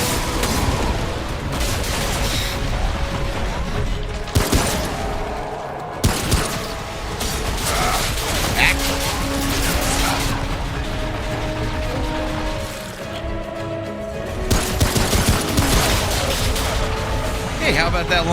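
Long rifle gunfire in the Remnant: From the Ashes shooter, sharp cracks and booms scattered among mechanical clanks and ratcheting, loud and close over busy game noise, with a voice talking intermittently.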